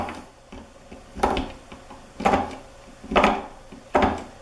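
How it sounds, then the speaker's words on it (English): Several dull wooden knocks and rattles at irregular intervals as a marble rolls and bumps inside a wooden puzzle box, close and fairly quiet. "I can tell the marble's going up"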